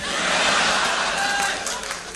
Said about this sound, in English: Bit of a round of applause there.